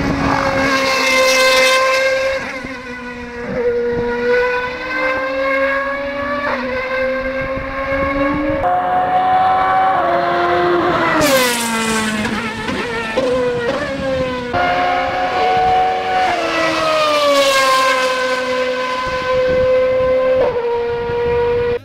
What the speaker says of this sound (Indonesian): suara yang dihasilkan dari knalpotnya bener-bener merangsang telinga